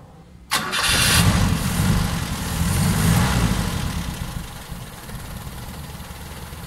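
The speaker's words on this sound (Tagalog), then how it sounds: "So medyo sluggish yung andar ng aking makina." An owner-type jeep engine, unstarted for five months, cranks over sluggishly after a sudden click, then catches and settles into a rough, steady idle, loud and close.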